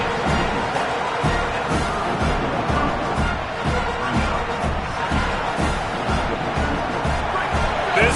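A college football stadium crowd at an Arkansas versus Pitt game roars in a steady, dense wash of noise with scattered cheers, and commentary runs over it.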